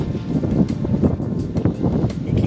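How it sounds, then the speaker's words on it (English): Wind gusts across a lakeside campsite, buffeting the microphone with uneven low rumbling bursts that rise and fall throughout. "I don't know if you can hear the wind."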